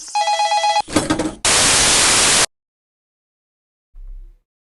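A phone rings in the video game Last Summer: a bright electronic ringtone with a short repeated pattern, then a clattering burst and a long block of loud static hiss, followed by silence and a faint low thump.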